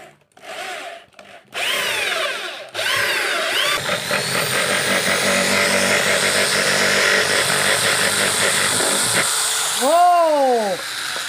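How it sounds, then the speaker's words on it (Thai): A small homemade drill built from a drink bottle cap whines as it bores into plastic, starting in short bursts, then running steadily with a wavering high-pitched buzz; an excited voice rises briefly near the end. "ลาเจาะเฮาจะเจาะพลาสติกว่ามันจะเข้าบ่"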